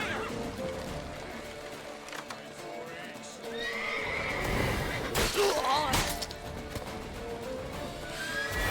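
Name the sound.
horse neighing in video game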